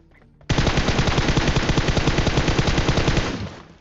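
Rapid automatic gunfire in the PUBG Mobile video game rattles out in one loud, continuous burst of about three seconds, then quickly fades.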